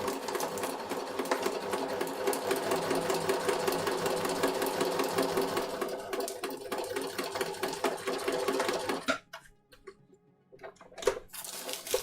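A sewing machine runs steadily while stitching the seams of a kid's Gryffindor jacket, a close, continuous motor hum with rapid needle chatter that slows and stops near the end, followed by a few handling clicks.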